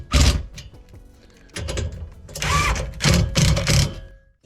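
A bolt snugged down on a Toyota 4Runner modular panel with a ratchet, several close bursts of quick clicking ratchet strokes separated by short pauses.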